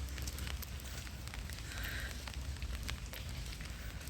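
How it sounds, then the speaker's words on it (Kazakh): Steady rain falls outdoors on an early morning walk, a dense, even patter that fills the whole stretch at moderate level with no voices over it. "жаңбыр түнімен жауып тұр."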